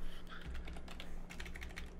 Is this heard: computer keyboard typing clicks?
yes